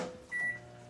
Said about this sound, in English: what I'm doing here is I'm melting our white chocolate chips up in the microwave